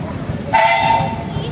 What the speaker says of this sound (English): You got a whistle.